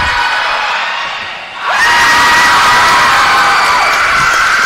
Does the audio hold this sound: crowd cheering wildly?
yes